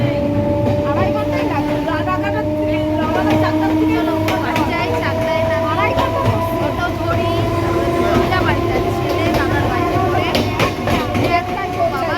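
A local train to Chakdaha, West Bengal, rumbling along at steady speed, loud and continuous, with rail clatter and a sustained hum; voices are faintly audible in the background.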